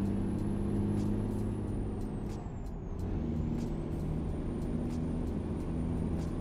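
A truck running without a trailer in American Truck Simulator, a steady engine drone with a brief air-brake hiss, alone with no talk.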